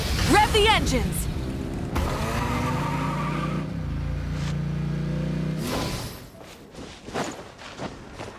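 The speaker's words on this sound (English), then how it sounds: "Rev the engines!" Car engines rev and roar in the Genshin Impact game, a loud sustained growl with rising pitch sweeps and tire noise, overlaid by game music and talk throughout, fading to scattered clatter near the end.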